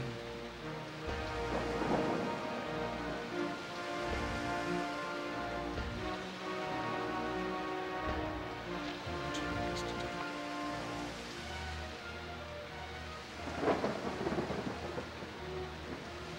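Thunderstorm with steady rain in the dinosaur park game Jurassic Park: Operation Genesis, a constant wash of rainfall with rumbling thunder building near the start and a sharper, louder thunder crack later on.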